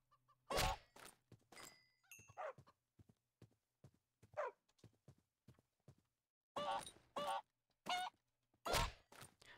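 Minecraft chickens in the FTB Revelation modpack give short, separate clucks at irregular intervals, with soft thunks and quiet gaps between them.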